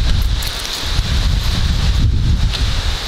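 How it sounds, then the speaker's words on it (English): Heavy rain and strong gusting wind batter the microphone outdoors while fishing for largemouth bass, producing a loud, constant roar with low rumbling buffets. No one speaks. "It is raining and super windy out right now."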